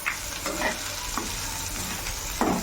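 Poha stirred through sizzling oil in a pan for Gujarati-style poha, with a steady close hiss and a few scraping strokes of the spoon, no voices.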